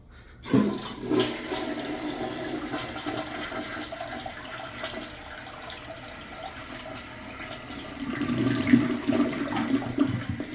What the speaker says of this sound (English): make sure it's flushing.